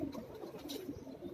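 A pigeon gives soft, low, murmuring coos on a Karachi rooftop, a faint repeating throaty purr that stays quiet and close throughout with no speech.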